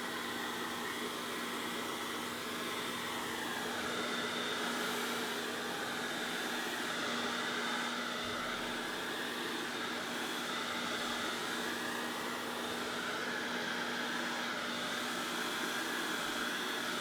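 A hair dryer blows a steady, loud, continuous airflow with a constant motor whine onto runny acrylic pour paint and glue gun art, running unbroken from start to finish with no talking.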